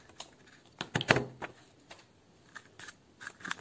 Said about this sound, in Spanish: Ahora cojo las tijeras y corto lo que me sobra.